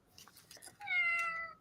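A single drawn-out cat meow from a toy sound book, bright and slightly tinny, preceded by a few short clicks or chirps, close and clear.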